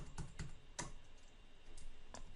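Someone presses Ctrl+Z on a computer keyboard while undoing steps in a 3D modelling program. A few sharp, quiet key clicks come close by at irregular spacing over faint room hiss.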